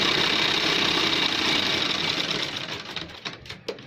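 Sewing machine stitching a gents shirt runs with a steady, loud mechanical whir that holds for over two seconds, then slows and fades into a few separate knocks and taps as the stitching stops.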